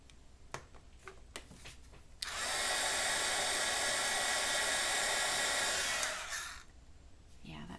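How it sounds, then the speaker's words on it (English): A heat tool drying alcohol marker ink on a colored stamped image starts abruptly after a few light taps and roars steadily for about four seconds, then winds down, close and loud. "it's best to have a heat tool so that you can really freeze the color in place."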